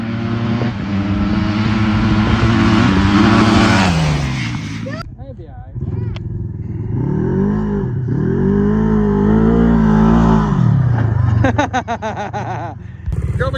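Dirt bike engine revving and droning nearby, rising and falling in pitch as it accelerates and eases off, with a brief drop in the middle, and people shouting and cheering over it.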